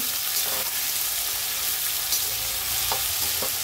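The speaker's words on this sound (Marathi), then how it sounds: "आता टोमॅटोला पण परतून घेऊ" Tomatoes and coriander sautéing in a pan with onions for veg biryani, a constant close sizzling hiss with a few light stirring clicks, no voices.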